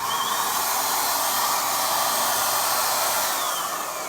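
Paint sprayer spraying furniture paint, a loud, constant airy hiss and motor whine that holds steady at close range for the whole stretch, with no talking.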